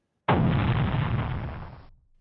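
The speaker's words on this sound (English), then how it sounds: "And explosion." A single explosion sound effect bursts suddenly into a loud, broad rumbling roar that holds for over a second and then cuts off, with nothing else heard.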